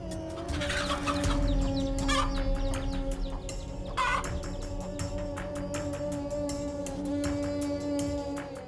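A hen clucks insistently while facing off against a cobra to shield her chicks, with sharp repeated clucks and calls over a steady hum of background noise, fairly close and continuous.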